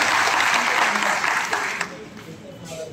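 Applause for an uncle at a health check camp in Akola: dense clapping from a crowd, loud at first and then thinning and fading toward the end.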